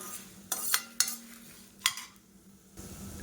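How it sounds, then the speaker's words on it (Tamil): Coriander and tamarind are stirred in a pan over a medium flame for coconut thuvaiyal, giving a few sharp metallic scrapes and clinks of a utensil against the pan over a faint background hiss. "மீடியமான ஃப்ளேமில் நல்லா வறுக்கணும், அந்த மல்லியோட வாசனை வர அளவுக்கு"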